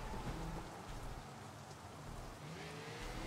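Steady rain pouring in the video game Sleeping Dogs, with a dense hiss, faint and continuous, with a low rumble underneath.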